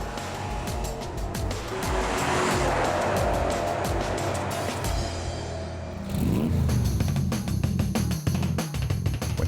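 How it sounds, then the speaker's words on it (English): Porsche Panamera engine revving loudly as the car passes, with tire and road roar throughout and a second surge of acceleration toward the end. "Here it is, the Porsche Panamera, today's classic of tomorrow."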